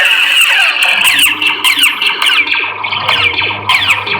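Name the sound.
KR Sabers Neopixel lightsaber sound effects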